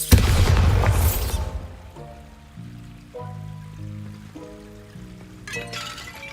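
The Bombarda blasting spell erupts in Hogwarts Legacy as a loud, roaring burst at the start that fades into crumbling debris. Tonal game music follows, with another short burst near the end.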